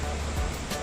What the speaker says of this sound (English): This is the beautiful and massive कतलधार waterfall.